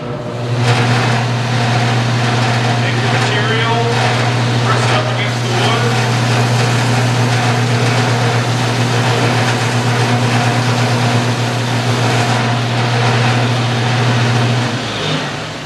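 Loud, steady mechanical drone with a low hum runs throughout, like a belt sander operating close by, with a voice faintly underneath.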